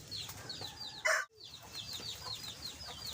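Backyard chickens clucking in short repeated calls, fairly close, with a louder burst partway through and steady farmyard background.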